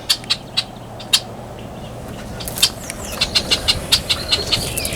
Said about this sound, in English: here is the red-winged blackbird.